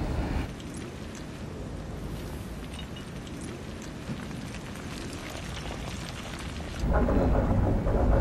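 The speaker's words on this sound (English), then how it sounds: "Dust storm. Headed straight for Mars One base camp." A film sound effect of a Martian dust storm bearing down on a base camp: a constant roaring wind rumble with crackling, rain-like texture, building into a heavier surge near the end, with no voices.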